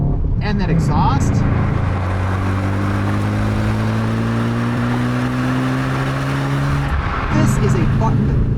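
Volkswagen Golf R exhaust note under way in its firmest race setting, a loud sustained engine drone climbing steadily in pitch as the car accelerates, then easing off near the end.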